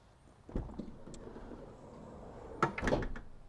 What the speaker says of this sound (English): side loading door on the passenger side.